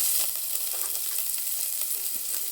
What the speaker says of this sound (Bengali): এখন আমি দিয়ে দেবো এর ভিতরে টমেটো কুচি